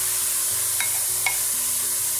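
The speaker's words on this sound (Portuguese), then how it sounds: "Vamos refogar um pouquinho aqui o chuchu." Chopped chayote sautés with onion in a pan, a steady even sizzle throughout with a couple of faint clicks, close and moderately loud.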